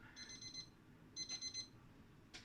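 A baking timer alarm goes off in a home kitchen, sounding two short runs of fast, high electronic beeps, quiet and close, with a brief click or clatter at the end.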